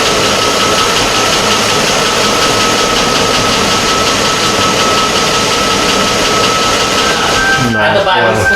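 A 2004 Chevy Avalanche with a 5.3 V8 idles steadily and close, a loud continuous engine drone that holds even throughout, before easing near the end.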